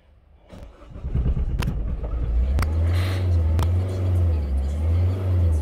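A Citroën C4 Picasso 1.6 HDi 110 diesel engine, checked for injector seal faults, cranks and catches, then settles into a steady low diesel idle with clattery ticks, close by.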